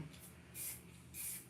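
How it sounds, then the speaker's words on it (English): An aerosol can of spray paint is sprayed onto a canvas prepared with black and white gesso, giving two short, soft hissing bursts against a quiet room. "I've already started spraying just a little bit"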